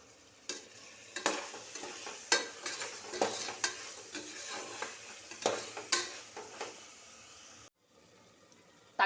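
A spoon scrapes and stirs through a thick mutton biryani mixture in a pot, with irregular knocks against the sides over a soft sizzle, no voices.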